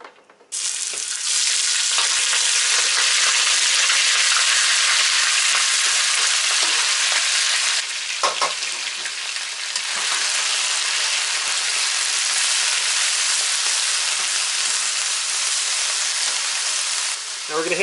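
Meat frying hard in very hot oil in a wok, a loud, steady sizzle that holds at full strength for most of the stretch, with a brief stir or scrape partway through.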